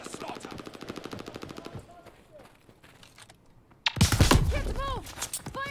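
Heavy automatic gunfire in the shooter game Call of Duty Vanguard, dense rapid bursts at the start, a quieter lull, then a loud burst of blasts and whistling impacts, with voices speaking amid the combat.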